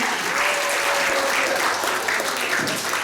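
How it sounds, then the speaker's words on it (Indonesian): An indoor audience in a library hall applauds steadily for a few seconds, a dense even clapping with a faint voice briefly underneath. "tepuk tangan untuk kita semuanya"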